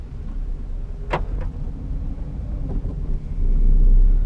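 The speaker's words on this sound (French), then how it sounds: "La première chose qui frappe, c'est aucun bruit. On entend juste la clim." Inside a moving 2008 Renault Clio 3 1.2 TCE 100 with about 125,000 km, a low, steady cabin rumble and a soft air-conditioning hush hold throughout. A brief click comes near the one-second mark, and the rumble swells louder toward the end.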